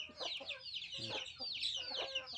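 Chickens on a farm clucking in a busy, overlapping chorus of short calls, continuous and moderately close throughout.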